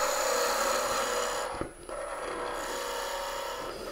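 A skew chisel cuts a spinning piece of wood on a lathe while a hand mirror is turned, giving a steady, close hiss and rasp with a constant motor hum; the cutting lifts off briefly midway, then resumes.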